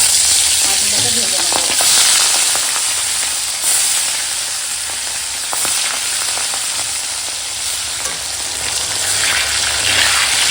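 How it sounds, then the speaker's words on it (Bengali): River tengra fish rubbed with salt and turmeric sizzling loudly in hot oil, a dense continuous crackle and spatter that stays steady and close, with occasional stirring. "তেল গরম হয়ে গেছে ফোঁটা লেগেছে তো একদম ছেঁক করে উঠলো তো"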